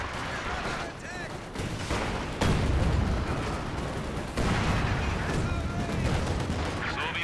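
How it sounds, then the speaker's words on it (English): Rocket artillery from a walking Stuka fires in a Company of Heroes 2 match, dense dull booms and crackling gunfire rolling steadily through a loud battlefield din with a commentator talking over it. "there's the walking Stuka"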